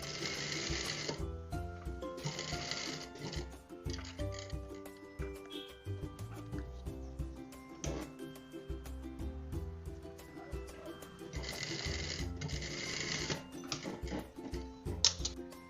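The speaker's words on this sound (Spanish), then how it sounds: "Iniciamos rematando y vamos cosiendo de acuerdo al margen de costura" Sewing machine stitching a blouse seam, with close rapid mechanical whirring bursts that start and stop repeatedly between quieter pauses, the motor hum and needle clatter steady during each run.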